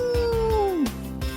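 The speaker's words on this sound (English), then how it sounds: "The sound of the dog." Dog vocalization in a Mug Root Beer commercial: a single drawn-out howl-like cry that slides downward in pitch and then cuts off, with a low rhythmic thumping beneath it and no speech.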